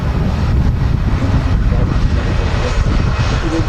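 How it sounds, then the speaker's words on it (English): A Lufthansa Airbus A319 roars at Manchester Airport as a steady, loud jet rumble with wind buffeting the microphone, while voices talk faintly underneath. "Lufthansa A319"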